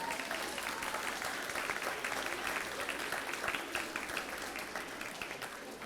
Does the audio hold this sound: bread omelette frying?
no